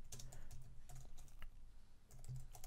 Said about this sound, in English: So if I type Docker